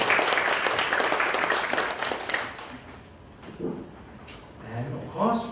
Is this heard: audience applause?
yes